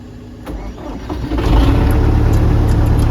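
A farm tractor's engine cranks and catches, settling into a loud, steady rumbling run outdoors on a frosty morning.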